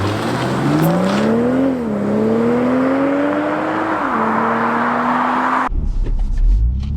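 A BMW G42 M240i in Sport Plus mode accelerates hard, its engine note climbing through the revs with audible upshifts, loud and close before cutting off abruptly near the end.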